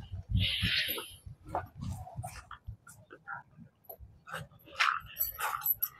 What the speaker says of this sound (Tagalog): Parang may tumahalan ng mga aso.